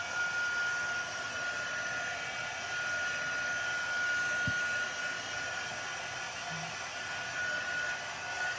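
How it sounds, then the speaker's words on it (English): A heat tool blows steadily and evenly for several seconds as it dries ink on a handmade card, a loud constant whoosh with a faint whine and a single small click partway through. "let me just add a little bit of heat to kind of dry this up a little"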